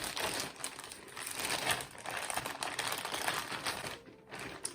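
Plastic packaging from a Shein clothing parcel crinkles and rustles continuously at close range, with irregular crackles throughout and a brief pause near the end.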